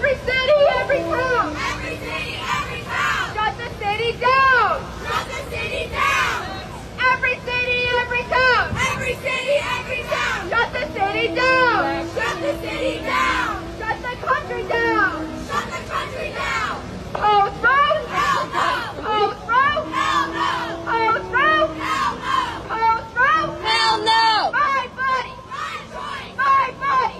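A large crowd of protesters on the Met Museum steps in New York, with loud overlapping shouting and chanting voices rising and falling at close range.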